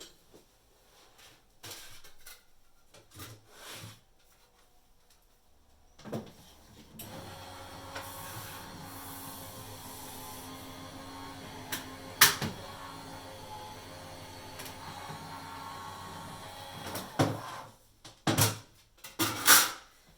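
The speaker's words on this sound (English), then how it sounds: "I'm just going to run this now through my die cutting machine." A die cutting machine runs card through its rollers, a low mechanical rumble with clicks and a few sharp clatters, close and fairly quiet, with no talking.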